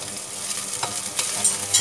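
Bitter melon for a stew sizzles in a pan as it fries lightly, a steady close frying hiss broken by a few sharp stirring scrapes and pops.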